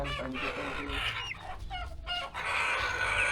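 Rhode Island chickens cluck close by in a short, busy burst of overlapping calls, with a rooster-like cry mixed in, and no speech.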